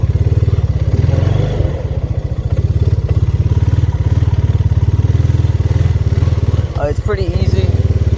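A Honda engine idling close by with a rapid, steady putter, while a person talks over it.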